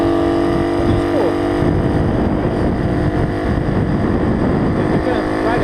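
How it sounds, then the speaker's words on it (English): A small Honda CT90 motorcycle engine runs loud and close, a steady raspy drone with slight rises in revs throughout. "This bike is so freaking loud"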